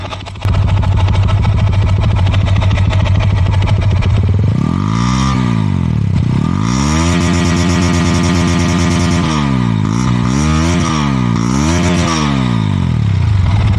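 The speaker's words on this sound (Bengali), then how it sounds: "মুসলমানির আগে আমার একজস্টের যে সাউন্ড কোয়ালিটি এটা অনেকটা এরকম। আমি যদি একটু থ্রটল দিই তাহলে বুঝতে পারবেন।" A GPX Demon motorcycle with its stock exhaust idles loudly up close, then the throttle is blipped several times, each rev rising and falling in pitch over a continuous rumble.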